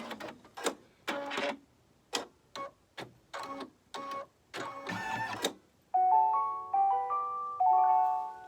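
An embroidery machine finishes a Santa magic key doorhanger stitch-out with a few final stitch taps, then plays a bright electronic completion melody of several stepped beeps, loud and close.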